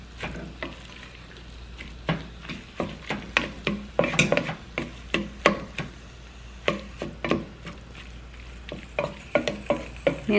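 Chorizo sizzles in a pan as a utensil stirs and scrapes it in repeated, irregular strokes, the frying hiss soft and close beneath the sharper clinks against the pan.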